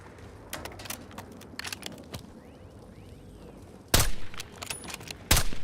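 Video game gunfire in a shooter, sparse bursts of shots with two loud, sharp volleys near the end over a low background rumble, with no talking.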